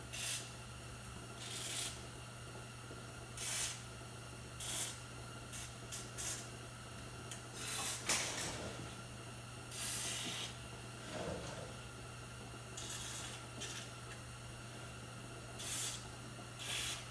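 Lubricant is squirted from a can onto a truck's rear end in a series of short hissing spray bursts, spaced irregularly over a low steady hum.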